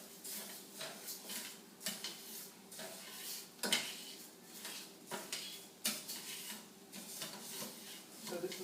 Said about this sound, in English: You want to stir it until it's all browning.